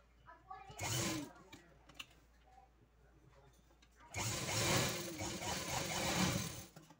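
A sewing machine stitches fabric for a dress made from a saree, running in two loud bursts of rapid whirring, a short one and then a longer one, separated by a quieter pause with faint handling sounds.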